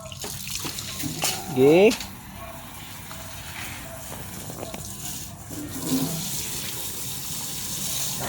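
Water runs from a tap with a steady rushing flow, while a person talks and brief clatters and a short squeak sound over it.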